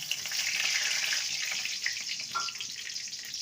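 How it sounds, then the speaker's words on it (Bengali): Whole cumin seeds, cloves, cardamom, cinnamon and a bay leaf sizzle in hot oil, a steady hissing crackle with a brief louder pop near the end. "তেলটাকে ভালো মতন গরম করে নেব ফোড়নে দেব হাফ স্পুন গোটা জিরে আর গোটা গরম মশলা লবঙ্গ এলাচ দারচিনি আর একটা তেজপাতা"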